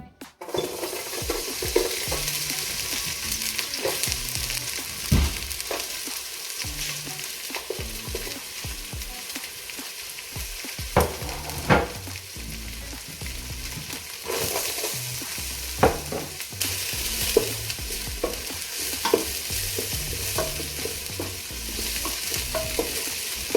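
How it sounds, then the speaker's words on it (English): Onion, garlic and pimento peppers fry in hot oil in a pot, a steady close sizzle with scattered clinks and scrapes of stirring throughout, no voices. "heat our pot. Have some oil. And with my onion, garlic, and pimento peppers"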